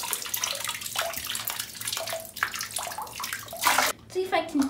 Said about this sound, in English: Let's just empty all the water out of this thing.